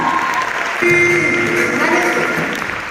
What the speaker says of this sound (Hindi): जोरदार जोरदार ताली होती है